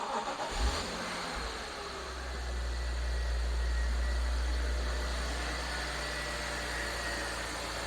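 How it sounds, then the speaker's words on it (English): A 3-litre six-cylinder car engine cranks and catches, then revs up to a strong, steady roar and holds a smooth, loud idle-rev close by, with no talking. "I don't know, it's a 3 litre 6-cylinder. Maybe we should start it up."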